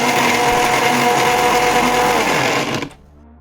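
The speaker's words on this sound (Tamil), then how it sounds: "ஒரு மிக்சி ஜாரில் போட்டு அடிச்சுக்கலாம்" Chopped ash gourd (white pumpkin) pieces whirring in a mixer grinder jar, a loud steady high-pitched motor roar that cuts off abruptly near the end, leaving faint quiet.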